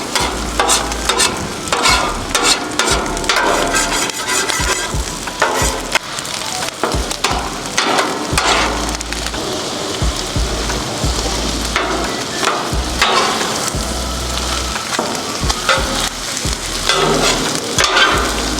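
Steady sizzling of fried rice on a hot griddle with frequent metal spatula scrapes and clanks as food is tossed and mixed, continuous and close.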